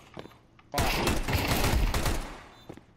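A sudden, dense burst of rapid Counter-Strike 2 gunfire erupts after a brief quiet moment, loud and sustained for about two seconds before tapering off.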